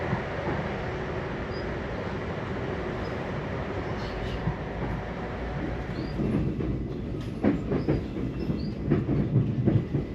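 A train bound for Tartu, Estonia rumbles steadily, with rhythmic clickety-clack of wheels over rail joints and a louder, more uneven rattle near the end, close and continuous.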